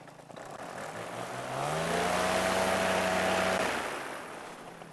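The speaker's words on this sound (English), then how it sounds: "I am pushing the kill switch on my throttle, and the engine's not turning off" A paramotor engine keeps running and will not shut off even with the kill switch pressed, giving a steady droning whir that swells louder midway and then eases slightly.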